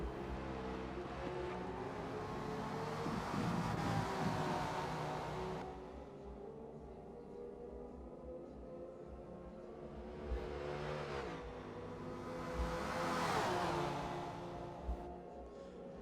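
Race car engines in a Le Mans racing game rise and fade as cars accelerate past and recede, with a steady engine drone between the louder swells and no speech.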